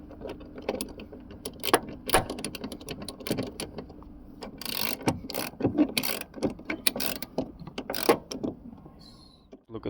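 A ratchet with a 13mm socket tightens the bolts and nuts on a Jeep Grand Cherokee door hinge, giving bursts of quick clicking with pauses and clanks of metal in between, close and fairly quiet.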